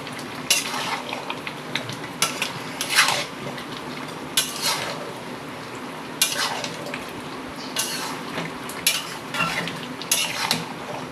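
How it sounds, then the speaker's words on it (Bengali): Fried potatoes going into a mutton curry in a pan, with repeated scraping, clinking stirs of a metal spoon over a low sizzle, close up and without talk. "এই আলুটাকে এবার আমি মাংসের মধ্যে দিয়ে দেব।"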